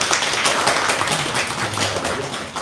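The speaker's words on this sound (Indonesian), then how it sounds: "Dan kita boleh tepuk tangan Ibu dan Bapak." Audience applause from a seated crowd: dense, close, continuous clapping at a steady level for a few seconds, with no talk over it.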